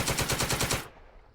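Rapid machine gun burst in the World War II video game Second Front, about eight evenly spaced loud shots over most of a second, then a fading tail of echo and low rumble.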